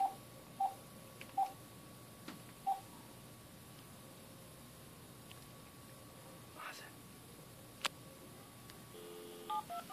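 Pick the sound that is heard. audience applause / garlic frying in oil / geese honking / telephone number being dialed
telephone number being dialed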